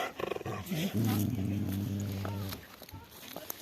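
A dog's low, drawn-out growling vocalization close by, mixed with human voices and rustling around it.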